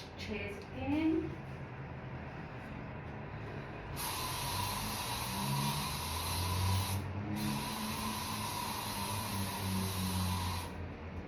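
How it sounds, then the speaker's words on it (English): Two long hissing bursts of a spray bottle onto chairs, the second after a brief pause, close by, with faint background noise and a soft voice early on. "Spraying the chairs again."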